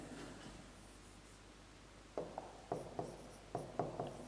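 Handwriting on paper during a biology lecture: quiet rubbing at first, then a series of short, distinct pen strokes scratching in uneven bursts, close and faint.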